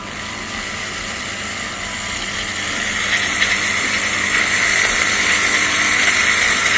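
A loud, continuous steam hiss from the steam wand of a Bincoo S1 Pro semi-automatic espresso machine that grows stronger partway through and then holds steady, with no voices.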